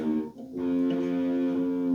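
A heavily distorted electric guitar in a sludge tone tuned down to C plays a string-skip figure, a thick sustained low chord ringing out after a brief choppy start, with no talking.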